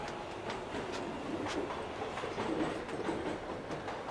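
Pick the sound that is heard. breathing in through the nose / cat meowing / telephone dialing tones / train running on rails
train running on rails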